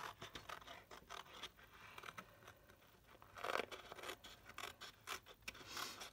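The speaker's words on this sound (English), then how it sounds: "I'm going to cut both those out." Scissors snip through card stock to cut out a paper butterfly shape. The quiet, close cuts rasp and scrape in an irregular rhythm, with no talking.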